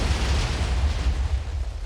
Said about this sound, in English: But let's see the explosion.